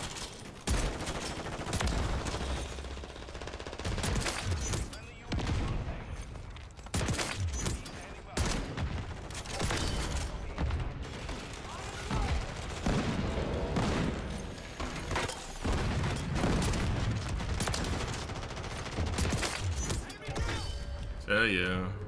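Reclaimer 18 shotgun blasts in Call of Duty MW3, repeated heavy booms in quick succession amid continuous loud game action and chatter.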